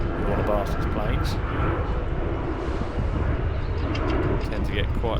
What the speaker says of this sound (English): One of Barston's planes.